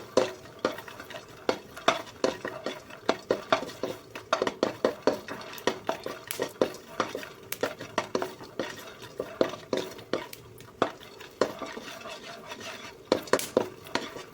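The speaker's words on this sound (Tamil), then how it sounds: "வேர்க்கடலையிலேருந்து நல்லா பட்டு பட்டுன்னு சவுண்டு வருது" Peanuts and garlic dry-roasting in a pan for bottle gourd fry, with sharp scraping stirs and small pops and crackles recurring irregularly throughout, close and fairly loud, no talking.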